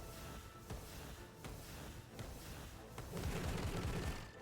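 A Flak Cannon card attack in the video game Slay the Spire 2 sounds as a rapid volley of gunfire-like blasts, with sharp repeated cracks early on and a denser, louder burst of explosive rumble toward the end.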